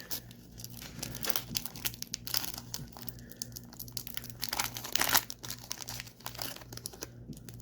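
Foil wrappers of 1988 Topps Mini baseball card packs crinkle and tear open up close, with steady crackling and a louder rip near the middle, and no voices.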